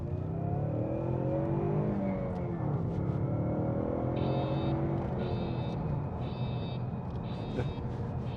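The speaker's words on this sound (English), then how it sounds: "Engine started, and it's given me a warning." A car engine idles and revs under steady driving noise while a series of four repeated electronic alert beeps sounds over it from an aftermarket car alarm, close and continuous.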